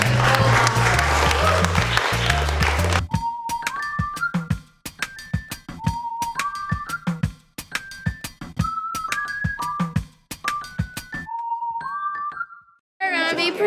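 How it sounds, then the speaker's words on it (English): Brief burst of audience clapping for middle school students at Barre City Middle School, lasting about three seconds, then giving way to a bright, repeating chiming melody with clear gaps between phrases. "a round of applause for their commitment to this work"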